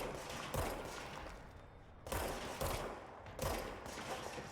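Service weapon gunfire in the video game Control, heard as a few quiet bursts of shots spaced a second or so apart over a low background hum.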